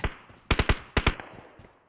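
PUBG gunfire on a mobile phone: two short automatic bursts of sharp, close shots in quick succession, then fading echoes.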